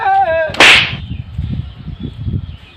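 A whip cracks once with a sharp, loud snap right after a brief musical tone, followed by a bed of low rumbling background noise.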